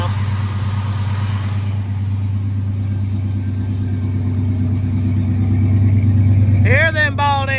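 An old pickup truck engine with an oil leak idles steadily with a low, rumbling drone, while a bird calls loudly near the end.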